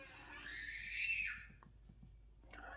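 Children scream loudly somewhere in a home, heard faint and distant as one sustained high shriek that fades after about a second and a half, with no talking.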